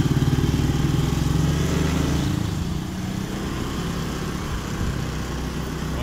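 A Honda Vario scooter engine runs steadily at idle nearby, a continuous low buzzing drone with no voices over it.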